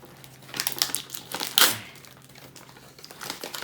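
A mailed trading card package wrapped in toilet paper is torn open, with close, irregular bursts of crinkling and tearing paper and one louder rip midway.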